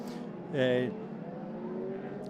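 A historic race car at a circuit festival roars past at close range in a brief rising-and-falling engine burst, then fades into a low background drone while a commentator talks throughout.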